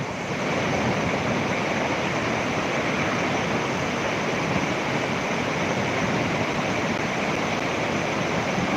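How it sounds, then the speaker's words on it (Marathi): Steady, dense rush of flowing river water, loud and continuous with no pauses or voices. "बघा नदीचं पाणी"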